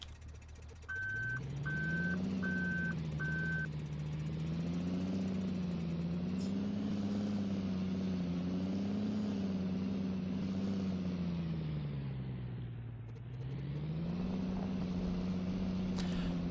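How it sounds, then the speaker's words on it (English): Car engine in Farming Simulator 2013, humming steadily as it drives with gently wavering revs and a dip midway, preceded by four short electronic beeps near the start. "A car. How nice."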